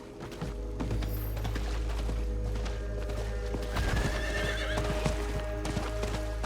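A mounted horse in Diablo 4 gives a loud neigh over rhythmic clip-clop hoofbeats, with booming game effects and a rumbling low background running through the whole stretch.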